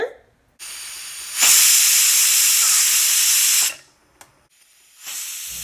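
A pressure cooker cooking rice on medium flame releases a loud, sustained hissing whistle of steam, cutting off abruptly, then a shorter burst starts again after a pause.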